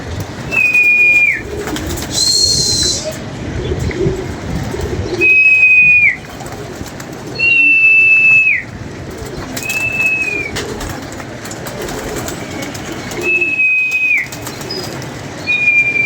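Pigeons in a rooftop loft give scattered cooing calls and bursts of flapping wings, with several loud clear whistle-like notes recurring every couple of seconds over outdoor ambience.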